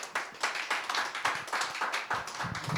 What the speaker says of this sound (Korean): 나오실 때 크게 한번 박수 쳐드리죠